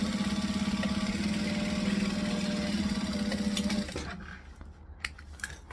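A sewing machine stitches across the bottom of a fabric tote bag with a fast, steady mechanical whir, close and moderately loud, then stops and is followed by soft handling clicks.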